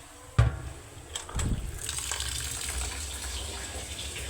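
Water poured over rice to soak it before cooking, a sudden splash followed by a steady gushing pour that settles into a continuous rush, heard close in a home kitchen.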